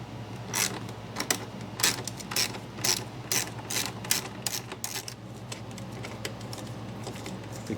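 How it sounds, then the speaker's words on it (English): Socket ratchet with a 10mm socket turning a bolt off the side plate of a 12-volt motorcycle battery, giving repeated close, crisp clicking bursts in uneven runs over a steady low hum. "I'm going to take my 10mm socket and remove this bolt that holds this plate on the side of the battery."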